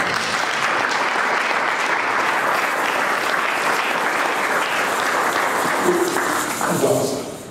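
A church congregation claps and cheers loudly and steadily, dense applause filling the room and tapering slightly at the end.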